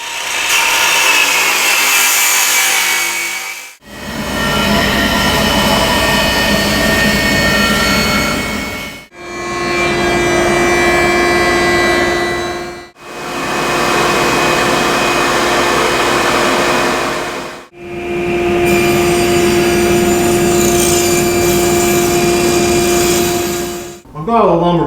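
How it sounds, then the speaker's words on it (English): Power saws rough-cutting and milling air-dried walnut lumber in a woodshop: five loud sustained cutting runs of several seconds each, separated by short pauses as the blade winds down, with no voices. "I need to rough cut it and then dimension it to four side square."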